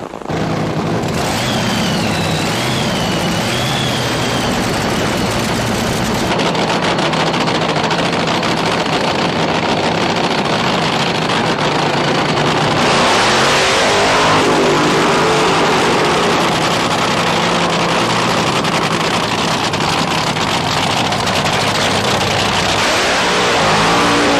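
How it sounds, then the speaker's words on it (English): Pair of nitro-burning top fuel dragsters doing short burnouts at a drag strip, a loud, unbroken, crackling roar that fills the whole stretch and swells as the cars run. "Now, Don, we've got a pair of relatively short burnouts here, which may mean these guys are having some driveline difficulty"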